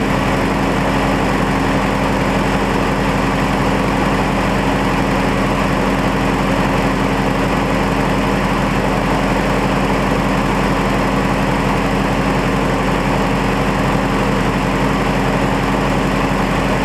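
A steady, loud idle from the Bandit's engine, a continuous even drone with a fine rapid pulse and no changes in pitch, running alone throughout.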